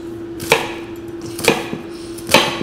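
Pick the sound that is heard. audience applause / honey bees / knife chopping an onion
knife chopping an onion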